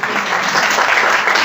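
A church congregation claps for children attending for the first time, producing a loud, dense, continuous burst of applause with no voices over it.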